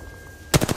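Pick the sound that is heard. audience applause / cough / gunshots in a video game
gunshots in a video game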